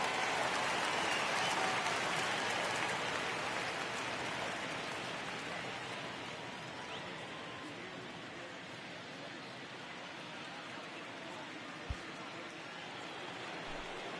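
Steady rain falls in the baseball video game MLB The Show 19, a continuous broadband hiss that starts loud and eases slightly. It runs alone with no talk, and a single brief knock is heard near the end.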